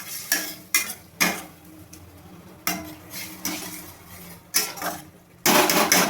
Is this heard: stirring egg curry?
yes